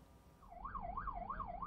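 An ambulance siren wails in a smooth, rapid up-and-down cycle as the ambulance drives along a road and moves into the next lane, loud and clear over low traffic rumble with no talking.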